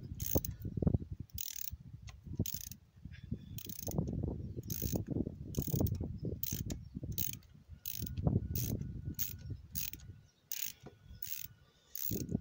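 A socket ratchet slowly unscrews a stiff spark plug on a Nissan Pixo 1.0, clicking in repeated short bursts of pawl ratchets with brief pauses between strokes, close and fairly quiet, with no talk.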